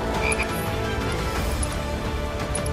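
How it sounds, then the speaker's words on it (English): Croaking from a frog in the action role-playing game Final Fantasy 7 Remake, a loud, raspy burst that carries for under three seconds amid busy game effects and music. "he's turned me into a frog"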